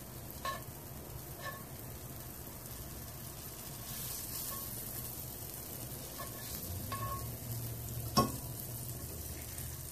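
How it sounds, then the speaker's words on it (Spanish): Butter sizzles in a hot cazuela with a soft, steady hiss, a few sharp clicks from a utensil striking the pot, and one louder knock near the end, all without talk. "Aquí puse a calentar esta cazuela. Le voy a añadir un poquito de mantequilla o bien pueden utilizar aceite vegetal."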